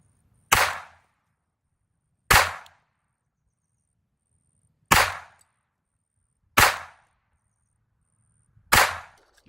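A Glock pistol fires a group of single shots outdoors, five loud sharp cracks spaced about two seconds apart, each decaying quickly into near silence.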